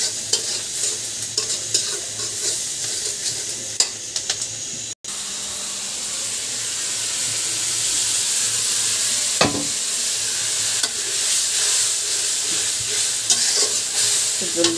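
Turmeric, coriander, chili and salt fry in a pan as they are stirred, giving a steady close sizzle with scraping strokes, a brief drop to near silence around five seconds, then a louder, denser hiss.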